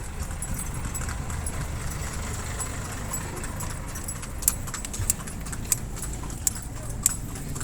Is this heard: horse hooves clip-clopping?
yes